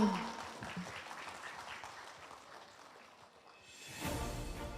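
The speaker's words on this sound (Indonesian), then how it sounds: "Tepuk tangan." Guests applaud at the inauguration of a regional organisation's board in Banyumas, Indonesia. The clapping is fairly soft and fades away, and a louder, different sound takes over near the end.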